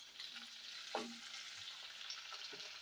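Ridge gourd pieces land in hot oil with fried coriander seeds and green chillies, giving a quiet, steady sizzle with one brief clatter near the start and a faint scrape later, and no speech.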